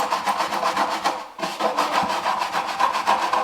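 A kitchen sponge scrubs the inside of a five-year-old styrofoam incubator in fast rhythmic strokes, a loud, close, squeaky rasping with one short break before the scrubbing picks up again.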